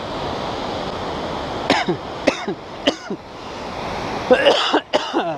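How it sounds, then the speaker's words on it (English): Several short, harsh coughs in a row, fairly close, over a steady rush of the Current River flowing in the background. "I've got a cough starting."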